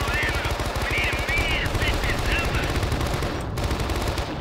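Machine gun fire rattles in rapid, dense bursts during a Vietnam War base-defense battle in the video game Men of Valor, loud and close, with a voice speaking over the shooting.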